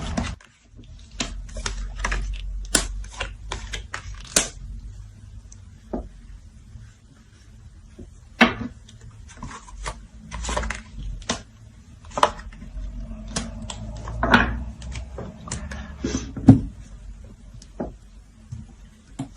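Tarot cards being shuffled by hand in a quiet room, a rapid run of soft clicks and riffles, pausing midway and resuming with scattered slaps, close and fairly quiet over a low hum.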